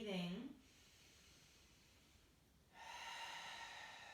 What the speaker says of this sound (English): Deep inhales, cleansing exhales. Really fill up your lungs fully and empty your lungs out completely.